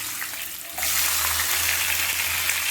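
Chopped onion dropped into hot oil with popped mustard seeds and cluster beans for a sankara fish curry: a quiet pan, then a sudden loud, sustained sizzle.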